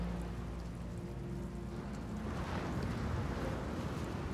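Steady rain pours in a video game, a dense, continuous wash of noise with a low rumble that swells slightly midway, no speech.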